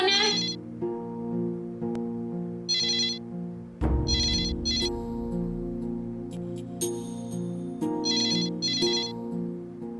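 A phone's electronic ringtone repeats in bright short bursts over a soft sustained musical background in a home drama scene, with a sharp bump partway through.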